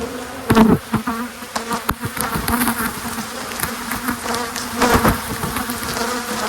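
A swarm of agitated honey bees buzzes loudly and continuously right against the microphone during a hive inspection, with individual bees zipping close and bumping past in sharp surges.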